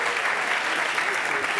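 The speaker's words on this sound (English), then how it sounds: "Some more applause, please." Audience applause at an award show during a music festival, a dense, steady wash of clapping from a large crowd that runs without a break.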